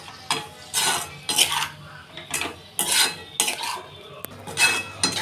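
A spoon stirs turmeric, red chilli powder and salt into ridge gourd curry in a metal pan, giving a run of rhythmic scraping and clinking strokes, close and fairly loud, with no talking.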